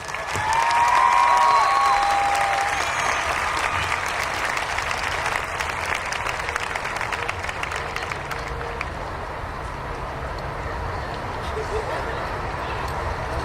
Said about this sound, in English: Please give these distinguished students a round of applause.